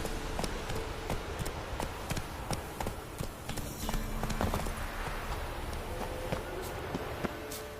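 Horse hooves galloping in The Witcher 3: Wild Hunt video game, a fast steady clip-clop of hoofbeats at moderate distance over a soft ambient background, without talk.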